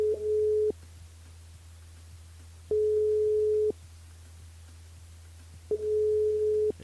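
A telephone busy signal sounds while a caller is being rung back through a switchboard: three steady tone bursts separated by silent gaps over a low background hum.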